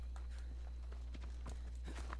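Rhythmic horse hoofbeats clip-clop at a steady trot over a constant low hum, fairly quiet and close, in the video game Assassin's Creed Odyssey.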